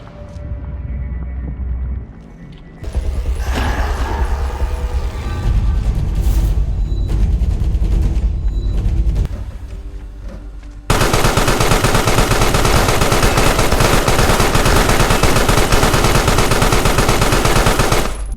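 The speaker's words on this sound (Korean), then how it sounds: "날아드는 폭발 작살" An explosive harpoon fires at a monster in a video game: continuous rapid blasts and booming, loud and dense, building into a sustained roar of gunfire-like explosions with no talk.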